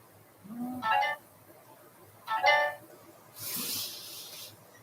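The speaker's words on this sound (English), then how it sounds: "Cell phone going off." A cell phone ringtone goes off in a room during a Halloween headset craft session, sounding in short repeated melodic bursts over steady background hiss, with a brief noisy rustle at the end.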